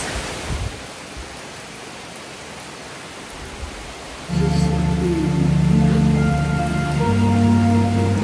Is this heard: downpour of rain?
yes